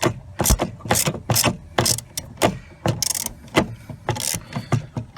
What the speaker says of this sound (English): So let's go ahead and remove that bolt.